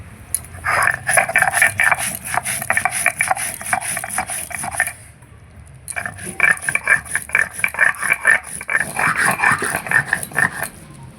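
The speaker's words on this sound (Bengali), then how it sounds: "প্রথমে বাটবো গোটা জিরে, নিয়ে নিয়েছি, বেটে নেব" Whole cumin seeds ground by hand on a grinding stone, repeated rough scraping strokes in a fast steady rhythm, close and loud, pausing briefly midway before resuming.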